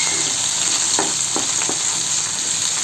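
Onion and garlic fry in a pan with a steady, loud, close sizzle, broken by a few brief scraping stirs in the middle.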